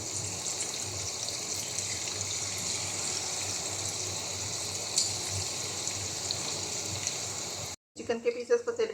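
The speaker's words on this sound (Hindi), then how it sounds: "चिकन के पीसेस को तेल में ऐड कर दिया है।" Chicken pieces frying in hot oil for restaurant-style chilli garlic chicken, a steady broadband sizzle running continuously for several seconds before a brief cut and a shift to rougher, louder frying noise.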